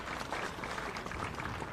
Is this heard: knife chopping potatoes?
no